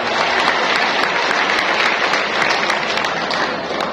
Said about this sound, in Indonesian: tepuk tangan kepada relawan semua yang hadir bersama